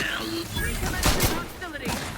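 A couple of sharp gunshots from a weak-feeling firearm in The Outer Worlds 2, moderately loud bursts within a dense bed of game sound and music.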